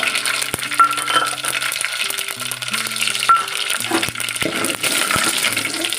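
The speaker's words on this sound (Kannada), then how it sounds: "ಎಣ್ಣೆ ಕಾದಿದ ತಕ್ಷಣ ಸ್ವಲ್ಪ ಸಾಸಿವೆ ಸ್ವಲ್ಪ ಸಾಸಿವೆ ಚಟ್ಪಟ ಆಗಿದ ತಕ್ಷಣ ಮೆಂತೆ ಕಾಳನ್ನ ಮೆಂತೆ ಕಾಳು ಹಾಕಬೇಕು" Mustard and fenugreek seeds crackle and sizzle in hot oil, a dense steady frying hiss with scattered sharp pops and light metallic clinks, close and loud throughout with no talking.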